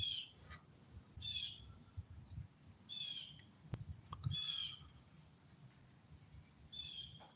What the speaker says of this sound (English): a blue jay hollering